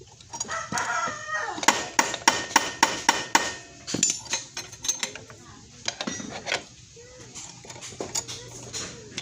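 Hammering on the magnet rotor of a Honda Vario 125 engine to remove it, a quick series of sharp metallic taps followed by slower irregular knocks, close by, while a rooster crows and someone speaks in the background.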